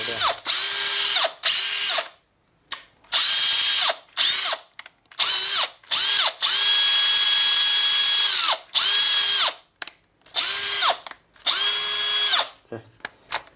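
A Makita 18V power tool runs on a Dekton 20V battery through an adapter, whirring loudly in repeated bursts of a few seconds each, starting and stopping sharply, with no one talking.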